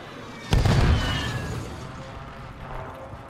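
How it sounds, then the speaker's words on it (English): Simtex grenade detonating in a video game, one sharp loud explosion near the start that rolls into a rumbling, fading tail with scattered crackles afterward. "Throwing Simtex."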